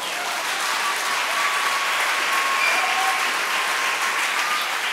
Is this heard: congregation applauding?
yes